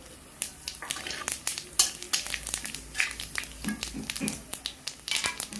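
Whole cumin seeds, a torn bay leaf and a whole dried red chili sizzle in hot oil in a pan, a crackling fry broken by sharp spatters and scraping stir strokes at irregular intervals, close up with no talking.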